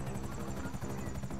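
A helicopter in Grand Theft Auto V thrums with a loud, steady rotor chop close by, filling the whole moment with no other sound competing.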